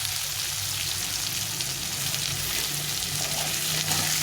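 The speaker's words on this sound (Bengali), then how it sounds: "আলুটা দিয়ে পেঁয়াজ আর আলুটাকে ভেজে নেবো ভালো করে" Onions and potatoes fry in a pan for a tengra fish chorchori, giving a dense, continuous close sizzle that holds steady throughout with faint stirring underneath and no talk.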